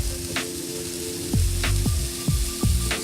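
Butter sizzling in a hot pan with mushrooms and peas, a steady bright frying hiss with a few louder crackling bursts and stirring noises.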